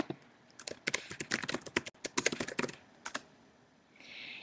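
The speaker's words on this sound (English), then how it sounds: "Here, I'll type it in." Someone types on a computer keyboard, tapping quick irregular bursts of close, crisp keystrokes for a few seconds before it trails off into quiet.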